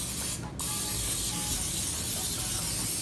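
A single short hiss of cooking spray into a 9 by 13 baking dish, about half a second long, close up, followed by quiet room noise.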